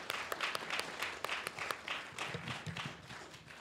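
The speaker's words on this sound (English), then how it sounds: "You can applaud that." Applause from an audience, many hands clapping in a steady dense patter that fades slightly toward the end.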